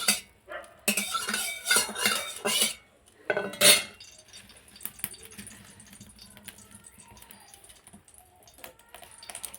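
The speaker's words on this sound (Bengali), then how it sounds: "ঘিটা খুন্তি দিয়ে এইভাবে একটু স্প্রেড করে দিচ্ছি।" A spatula spreads ghee around a kadai (wok) while a carrot sweet is being made, giving a few sharp scraping and clinking strokes in the first seconds before settling into near quiet.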